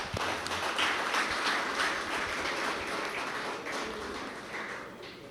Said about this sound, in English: A round of applause to the beautiful audience.